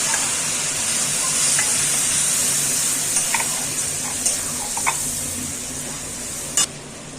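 Turmeric, chilli powder, cumin and bay leaf fry in hot oil for a Bengali-style mutton curry, a steady close sizzle with occasional stirring clinks and scrapes, loud and continuous without talk.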